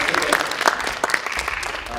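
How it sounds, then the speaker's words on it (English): Applause from an audience at a high school State of the School event, a dense patter of clapping with some speech-like sound mixed in, steady and moderately loud through the whole stretch. "FBLA, you can clap."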